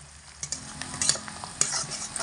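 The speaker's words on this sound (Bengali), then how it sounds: "এগুলোকে হালকা একটু লাল করে ভেজে নেব।" Onions frying in a pan for a fish-roe dish, a steady close sizzle with bursts of crackle and stirring scrapes throughout, no voices.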